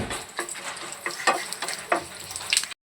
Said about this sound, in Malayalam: അതിലേക്ക് എണ്ണ ഒഴിച്ചു കൊടുക്കാം വലിയ ജീരകം ഇട്ട് കൊടുക്കാം അതിലേക്ക് സ്വല്പം കുരുമുളക് ചേർത്ത് കൊടുക്കണ്ട